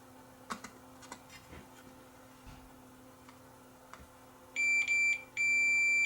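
Scattered ticks and clicks of probes touching speaker wiring during a tear-down of a Realistic Minimus 0.5 speaker, then a multimeter's continuity tester gives two steady electronic beeps, the second held longer, close and clear.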